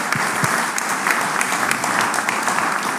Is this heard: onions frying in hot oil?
no